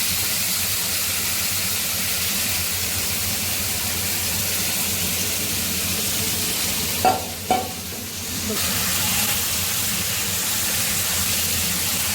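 Chicken curry sizzles loudly in a pan while being stirred, a constant dense frying hiss broken by a couple of sharp scraping knocks of the utensil partway through, with no speech.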